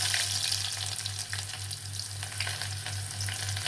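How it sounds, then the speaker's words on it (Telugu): Onions frying with mustard seeds, cumin and garlic for a drumstick curry: a dense, steady sizzle over a pulsing low hum, close and fairly loud. "బాగా ఫ్రై చేసుకుందాం"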